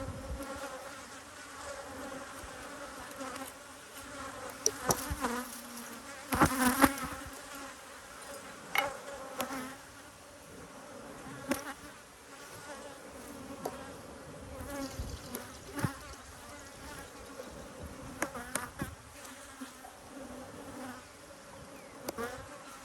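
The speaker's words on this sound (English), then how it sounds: "So many bees down there." Honey bees in an open hive keep up a dense, continuous buzzing hum, close and steady, with occasional louder passes and light knocks.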